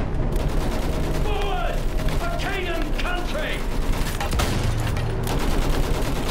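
Battlefield 1 campaign gunfire rattles in rapid mechanical bursts over a dense, loud wall of battle noise, with brief voice-like tones drifting through the mix.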